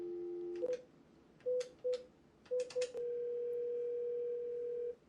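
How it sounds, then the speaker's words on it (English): A VoIP office phone dial tone cut off by a series of short electronic keypad beeps in uneven bursts, then a long steady tone. "Now I'm going to dial a number."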